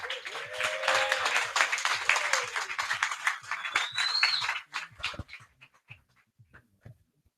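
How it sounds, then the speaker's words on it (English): A crowd at a talk event applauds as speaker David Barragan is introduced, lively clapping mixed with whoops and a whistle-like cry, tapering into scattered claps and near silence. "Give him a round of applause"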